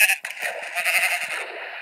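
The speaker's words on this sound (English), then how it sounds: "I can't punch the sheep." Minecraft sheep bleating in the video game, a loud close wavering bleat that runs on and off with short breaks between calls.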